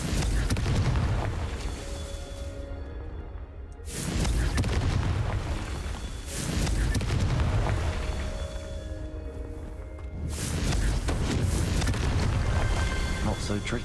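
Repeated Confringo fire-blast spells burst in Hogwarts Legacy, deep booming explosions arriving roughly every three seconds, each swelling loud then fading into rumbling debris.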